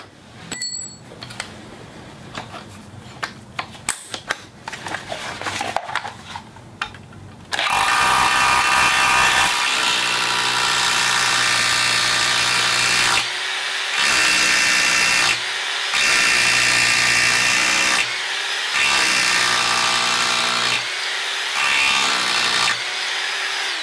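A power drill drives blue Tapcon screws into concrete: quiet handling clicks first, then a loud sustained whine broken into several long bursts with short pauses between them, close and harsh.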